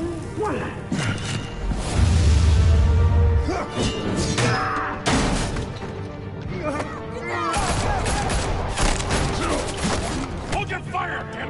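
Gunfire and clattering action in Batman: The Telltale Series, with busy bursts of shots, impacts and whooshes layered over dramatic game sound, loud and continuous.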